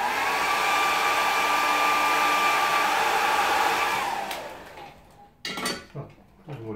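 A hair dryer blows steadily and loudly over a watercolour painting of a rocky coastline for about four seconds, then switches off, followed by a few light clinks and handling sounds.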